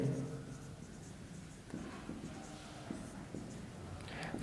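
Chalk or marker writing math properties on a board during an inverse trigonometry lecture, a continuous scratchy scrawl with short taps and strokes, close and moderately faint over a quiet room hum.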